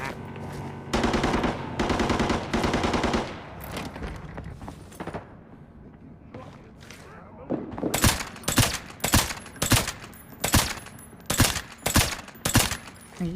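Automatic and rapid gunfire in the shooter game Arena Breakout, with a T88 rifle among the guns: dense bursts early on, a quieter lull, then a run of loud, evenly spaced sharp shots near the end.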